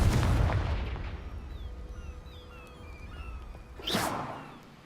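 A Confringo explosion spell is cast in the video game Hogwarts Legacy, with a loud burst at the start followed by quieter magical tones, and then a second sharp blast near the end.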